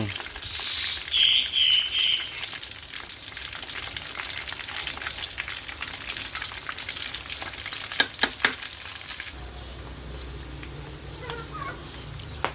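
Palm oil sizzles and crackles steadily as chicken drumsticks fry in a pan, with occasional clinks and stirring, a constant hiss filling the background.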